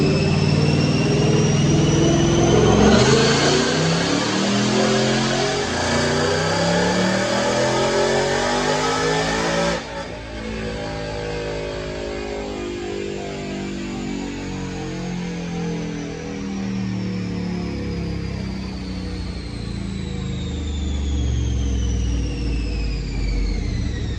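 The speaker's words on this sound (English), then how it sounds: "we're going to watch a dyno pull" Supercharged 2019 Ford Mustang with a Roush supercharger and stainless headers, revving hard on a dyno, loud and close, with the engine note climbing and then easing off partway through.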